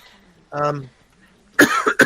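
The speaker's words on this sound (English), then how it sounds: "I hear other people coughing in the courtroom" A short voiced noise, then two sharp, loud coughs close by, one right after the other.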